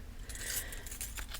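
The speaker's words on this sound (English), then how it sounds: "I'm shuffling them face up so that you can see an example of some of her artwork." Tarot cards from the Wild Unknown Archetypes deck are shuffled face up, a faint, close, continuous papery riffling and sliding with a few brighter flicks, with no talking.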